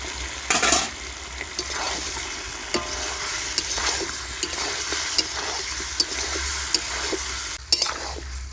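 Chicken and potatoes fry in a pan while being stirred, a continuous sizzle broken by repeated scraping strokes and light knocks of the utensil at a moderate, close level.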